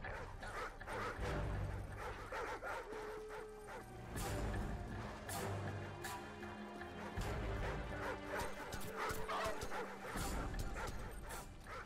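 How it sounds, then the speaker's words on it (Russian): A dog barks and whimpers in a Call of Duty: Modern Warfare game scene, short yips and barks over a dense bed of rumbling ambience, clanks and crashes, fairly loud throughout. "Собачка-то попалась недружелюбная"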